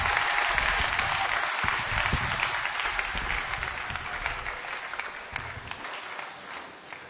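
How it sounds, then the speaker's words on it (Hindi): Sustained audience applause at a mushaira poetry event in Firozabad, a dense wash of many hands clapping that fills the whole stretch and slowly tapers toward the end. "मैं उनको माइक जब तक दूं उनको इतनी बड़ी तालियां दीजिए उनका मूड बन जाए"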